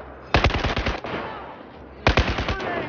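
Machine gun fire in the Battlefield 4 game, two close, loud bursts of rapid shots, each about half a second of sharp rhythmic cracks with a decaying echo between them.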